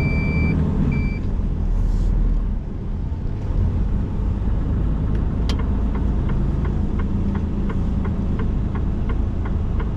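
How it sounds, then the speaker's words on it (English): Regular reversing beeps repeat over a loud, rumbling truck engine, evenly spaced in the second half. "Beeping."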